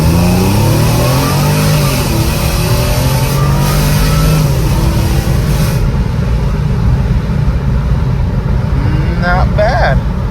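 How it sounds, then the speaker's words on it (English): A Mercedes C32 AMG with a newly installed 63mm pulley accelerates hard, its engine note loud and continuous as it climbs through the revs from inside the car before the pull eases off. "Let's do a quick pull right here."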